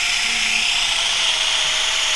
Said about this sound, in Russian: Дуб, короче, очень сложно сверлится пером.